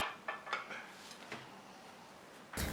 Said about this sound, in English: Invert the bowl on a plate.